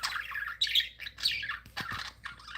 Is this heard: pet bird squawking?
yes